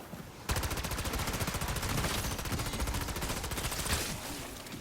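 Model L rifle in Black Ops 6 Zombies fires in one continuous, fast automatic burst, loud and close, a dense stream of rapid shots running unbroken for several seconds after a short quiet start.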